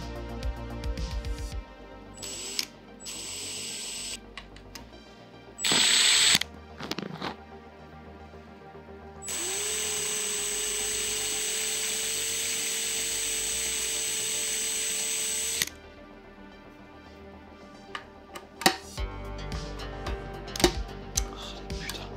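Power drill working on the oil pan of a Nissan 350Z in a home garage: short bursts of drilling, then one long steady whine lasting several seconds, followed by clinks and taps of tools, with no talk.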